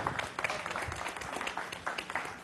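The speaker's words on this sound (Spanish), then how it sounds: "un aplauso para ustedes" Audience applause at a live salsa and Latin jazz fusion show, a dense steady patter of many hands clapping close by, with a faint voice in the mix.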